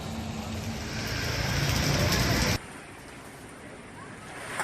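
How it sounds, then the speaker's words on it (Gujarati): Unseasonal rain falling in Jamnagar city: a steady broadband hiss of rainfall that swells slightly and then drops abruptly to a quieter, even wash of rain, with no talk. "જામનગર શહેરમાં પણ કમોસમી વરસાદ પડ્યો।"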